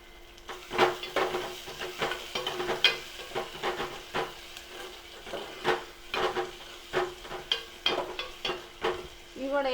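Tomatoes and green chilies frying in a pan with a soft sizzle, punctuated by rhythmic stirring scrapes and clinks of a utensil against the pan, close and moderate in level.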